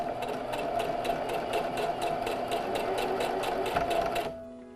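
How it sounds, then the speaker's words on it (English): A sewing machine runs steadily as it stitches fabric for a homemade face mask, a close continuous whir and needle patter that stops abruptly near the end. "Continue sewing."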